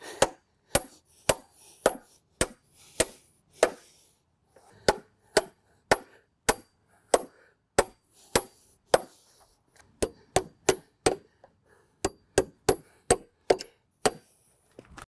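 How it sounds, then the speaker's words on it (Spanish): Nails are hammered into wooden boards while building shed walls, with sharp, loud, evenly spaced blows in quick bursts, some brief pauses between runs of strikes. "Si vas a usar un martillo y clavos, te sugeriría que te pares en ambas piezas de madera"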